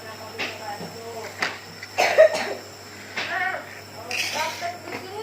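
Child coughing near a nebulizer, several short raspy coughs scattered among quiet murmuring voices and a steady low hum in the room.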